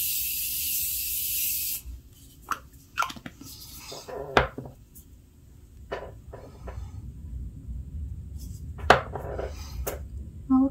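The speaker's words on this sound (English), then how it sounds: "continuous setting spray" A short burst of spray hisses at the start, followed by quiet rustling, soft clicks and handling noises.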